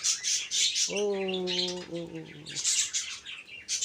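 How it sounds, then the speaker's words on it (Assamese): Lovebirds chirp and call in a busy chorus on a farm in Kottayam, Kerala, with a clear, sustained tonal call standing out in the middle before the chatter carries on. "এইফালে চৰাই চিৰিকটি চিঞৰি আছে"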